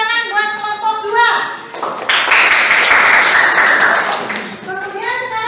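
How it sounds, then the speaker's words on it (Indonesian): A classroom of students claps for a student group after its presentation, a burst of applause lasting a few seconds between stretches of a teacher's voice. "Kasih tepuk tangan buat kelompok 2"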